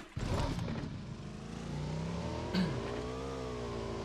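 A motorbike in a battle royale video game starts loudly, then its engine revs and climbs steadily in pitch, a smooth droning whine with a brief bump partway through.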